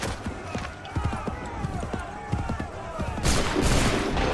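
A musket volley rings out in Assassin's Creed III, a rapid ragged string of sharp reports and thuds in quick succession, followed by a louder burst of noisy blasts near the end.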